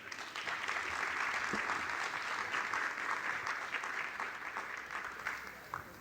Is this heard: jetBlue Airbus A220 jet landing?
no